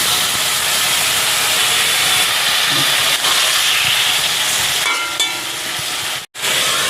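Water hits a hot pan of tomato, ginger and green chili for a fish-head and soya chunk curry, producing a loud, sustained steamy hiss that continues unbroken before a brief cut near the end.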